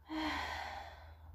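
A person takes a single audible breath during yoga practice, a soft sighing exhale heard close and quiet in an otherwise still room, without speech.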